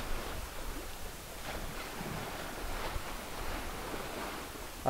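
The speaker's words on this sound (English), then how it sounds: "Sound of the waves." Faint, soft washing of ocean waves heard from a sailboat, with gentle wind noise, slowly rising and falling, no voices.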